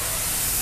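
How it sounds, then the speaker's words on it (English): A GOCLEAN dry steam cleaner sprays a continuous, loud hiss of steam, steady and close for the whole moment, with no voices. "Now, you see, this is the dry steam."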